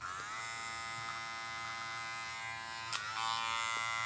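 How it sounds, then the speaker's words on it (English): A TPOB XO hair clipper hums steadily at a constant pitch, a quiet high buzz running throughout, with a brief small click partway through. "Sounds super quiet, as y'all seen in my video when I turned it on."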